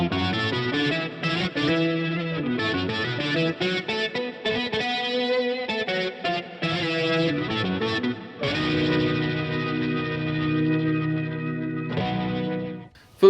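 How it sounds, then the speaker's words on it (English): A HeadRush DB33 organ effect emulating a classic tone wheel organ plays sustained chords and short melodic runs with drawbar harmonics and a slight vibrato shimmer, loud and alone without any voices. "the DB33 organ, which emulates the sound of a classic tone wheel organ."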